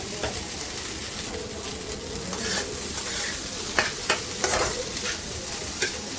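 Egg fried rice is stir-fried in a pan, a steady sizzle and frying hiss with scattered scraping clicks of a spatula against the pan, close and continuous.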